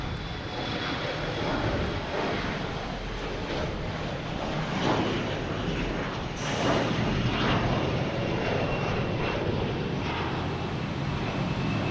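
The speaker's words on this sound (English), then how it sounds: "We have Delta E-175 heading to LaGuardia" A Delta Embraer E175 jet airliner taking off from Boston Logan Airport toward LaGuardia produces a loud, sustained engine roar with a thin whine layered on top. The roar swells and surges slightly midway, and no voices are present.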